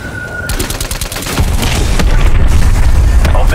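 In a Call of Duty: Cold War Outbreak match, a hand cannon fires a rapid series of heavy, booming shots at a helicopter, the loud blasts overlapping into a continuous barrage.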